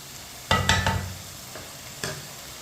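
White chickpeas stirred into a cooking pot: a few distinct scraping strokes of a spoon with a light sizzle, close by, separated by quiet gaps.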